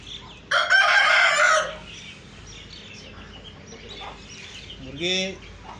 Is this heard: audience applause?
no